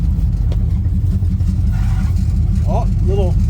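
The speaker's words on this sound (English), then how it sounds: "Oh, little belt squealing, not bad." A 1979 Trans Am's engine idles in a deep, steady rumble, with short rising-and-falling belt squeals near the end; a voice talks throughout.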